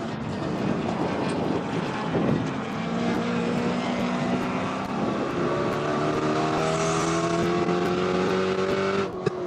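Spec Corvette race cars climb the hill at Sonoma Raceway, several engines droning and rising in pitch as they pass, heard from a distance as a steady, layered roar.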